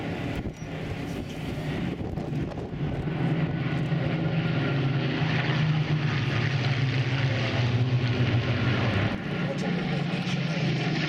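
A twin-engine propeller aircraft flies past at an airshow, its steady droning engine roar rising and holding loud before easing off, with wind buffeting the microphone.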